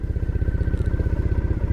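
A Triumph Thruxton motorcycle engine runs steadily and close by, with an even, rapid low throb and a faint whine sitting above it. No one is talking.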